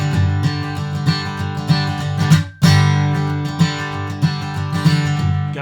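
Bluegrass rhythm guitar strums steady chords, with a left-hand muted chord snapped hard on the downbeat for drive; a brief gap falls midway before the driving strum pattern resumes, played alone and up close.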